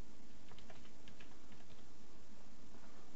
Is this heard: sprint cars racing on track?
no